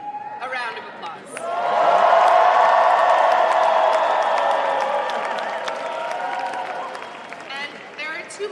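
A large election night rally crowd bursts into loud, sustained applause and cheering for Zohran Mamdani, swelling quickly and holding as a dense roar before slowly tapering off.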